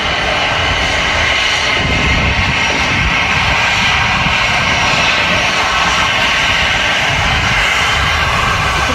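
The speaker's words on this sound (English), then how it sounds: "So you get an amazing shot of this plane here." Airliner in special livery arriving at Manchester Airport, a steady broad jet engine roar sustained and fairly loud throughout, heard from a visitor park with no talking.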